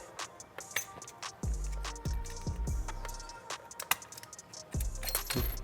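Plastic clips of a TWM fuel cap for a Ducati Hypermotard 698 RVE Mono being pried out, giving a series of sharp clicks, snaps and light clinking rattles at irregular intervals, close and fairly loud.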